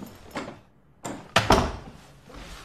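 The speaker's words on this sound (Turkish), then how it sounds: "Kapıyı kapat bari." A door is pushed shut, with a sliding scrape and then two sharp, close knocks as it closes, heard alone without talk.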